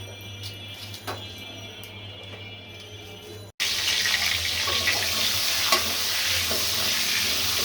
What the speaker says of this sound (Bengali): আমি এখন পেঁয়াজুর ওই তেলের ভিতরে আমি দিয়েছি, এখানে হচ্ছে সসেসগুলো আমি ভেজে নিব